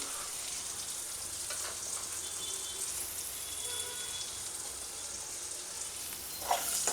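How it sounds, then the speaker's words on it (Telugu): Onions fry in a pan for mango pulihora, a steady, dense sizzle up close with light stirring scrapes and no talking. "ఆనియన్స్ ఇలా ఫ్రై అయిపోయిన తర్వాత ఇందులోకి పసుపు పొడి యాడ్ చేసుకోవాలి."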